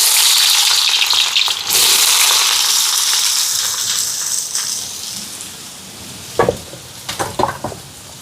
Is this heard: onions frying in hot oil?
yes